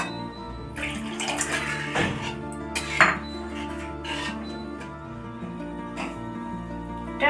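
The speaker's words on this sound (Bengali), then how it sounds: "এবার এখানে আমি জল দিয়ে দিচ্ছি পরিমাণ মতো।" Water poured into a fried spice masala in a pan for Bengali rui posto, a running splash and gurgle with light clinks of utensils, fairly close and without talk.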